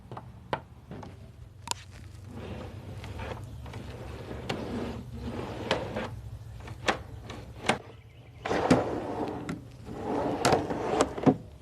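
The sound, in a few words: homemade wooden drawer sliding into Jeep Cherokee Trailhawk drawer system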